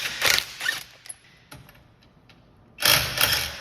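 A 21mm socket wrench works the wheel nuts on a 2012-2017 Toyota Camry Hybrid, giving two quick ratcheting bursts, then a few faint clicks and a pause before a louder rapid ratchet run, close up.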